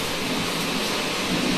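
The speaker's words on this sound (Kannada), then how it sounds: "ಸರಿಯಾಗಿ ಗಾಳಿ ಮಳೆ ಸರಿಯಾಗಿ ಬರ್ತೈತೆ." Steady wind and rain outdoors, a dense continuous wash of noise with a low rumble underneath, fairly loud and even throughout with no talk.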